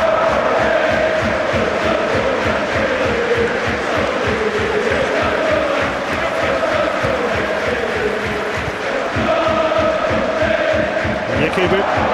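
West Bromwich Albion supporters chant and cheer in a packed stadium during a 2008/09 match against Everton, a loud, steady wall of crowd voices with rhythmic pulses running throughout.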